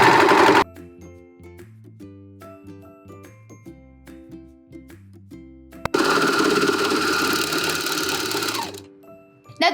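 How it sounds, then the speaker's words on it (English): A serger sews the underarm of a sweatshirt sleeve and the body's side seam in one pass, whirring loudly and steadily up close after brief tinkling sounds, then stopping near the end. "we're gonna serge together the underarm of the sleeve and the side seam of the body"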